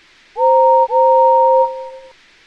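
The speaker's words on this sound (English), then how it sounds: "The guard blew his whistle" A railway guard's whistle gives two loud, pure, sustained blasts, the first short and the second longer, ringing out clearly with no other sound.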